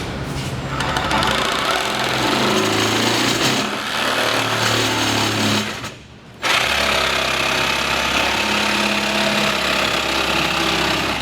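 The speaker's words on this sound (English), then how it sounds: "Using your plywood blade, we're getting ready, we're going to cut these." A power saw fitted with a plywood blade cuts through panels, a loud continuous grinding whine that dips briefly midway, then resumes strongly and runs on to the end.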